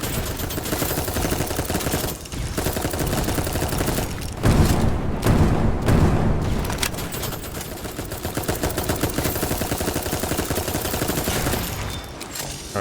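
Sustained machine gun fire in the Dolls Nest video game, a dense, loud run of rapid automatic bursts lasting throughout with a heavier booming stretch in the middle and no talking.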